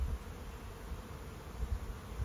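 A swarm of bees crowds around a hole at the entrance of a hive, giving off a steady, dense, low buzzing that holds unbroken from start to finish, close by and moderately loud.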